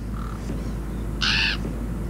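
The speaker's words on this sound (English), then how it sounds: "Oh, here comes the crows." Crows caw from a Game of Thrones episode, one short call followed by a louder, harsher caw over a steady low background rumble.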